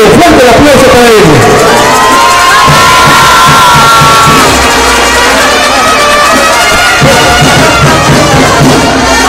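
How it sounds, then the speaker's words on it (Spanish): At a campaign rally in Jonacatepec, a large crowd cheers, whoops and applauds loudly for a candidate for federal deputy, with the noise sustained throughout. "fuerte el aplauso para él"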